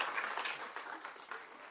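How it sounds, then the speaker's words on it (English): Short, fairly quiet burst of audience applause at a school board meeting, a scattered group clapping for a moment in a meeting room. "Let's give her a round of applause with that."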